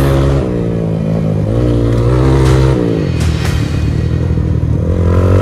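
An off-road motorcycle revs hard while popping a big wheelie on an adventure ride, its engine loud and close, pitch climbing and dipping in surges with some clatter over a constant roar.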